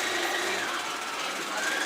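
Industrial sewing machine stitching a second seam over the first on a large fabric piece, a steady close-up mechanical whir running continuously without pauses.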